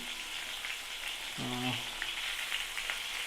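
Pointed gourd (potol) frying in oil in a pan, a steady soft hiss and crackle throughout, with a brief voice murmur partway through.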